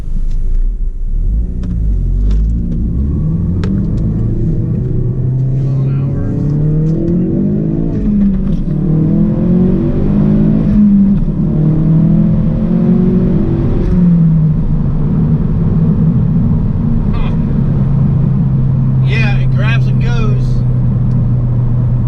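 A 2016 Ford Focus RS fitted with a Steeda rear motor mount accelerates, its engine rumbling and rising in pitch from inside the car, with voices talking throughout.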